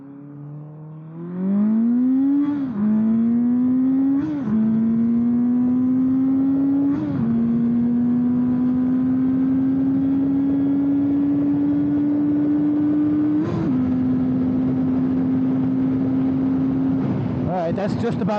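A 1977 Kawasaki KZ650 motorcycle accelerating hard, its engine note rising through several gear changes, each shift a brief dip before the steady climb resumes, loud and close throughout and ending in a buffeting of wind noise.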